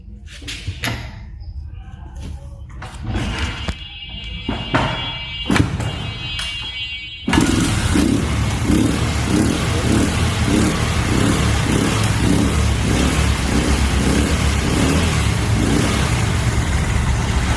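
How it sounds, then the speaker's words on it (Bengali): A Honda CD 80 motorcycle gets a few clicks and knocks before its small engine fires up and settles into a steady, close, rapidly pulsing idle that runs on alone. "আপনাদেরকে স্টার্ট করে দেখাই অন হলো গাড়িটা"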